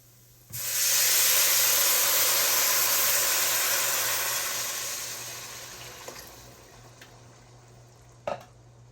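A sudden loud hiss and sizzle as water is poured into frying rice in a hot pan, steady for a few seconds, then slowly fading, with a couple of clinks near the end.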